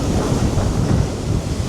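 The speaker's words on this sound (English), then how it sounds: "I love listening to the waves." Waves breaking against a sea wall on a blustery day, a steady loud roar of surf and wind buffeting the microphone, dense and unbroken throughout with no voices.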